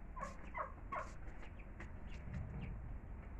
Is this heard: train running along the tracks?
no